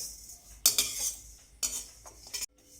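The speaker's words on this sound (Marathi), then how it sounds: "त्याच्यामध्ये आपण आता जिरे भाजून घेणार आहोत." Cumin seeds dry-roasting in a hot pan while being stirred, heard as short bursts of dry rattling and scraping, two main clusters with quieter gaps between.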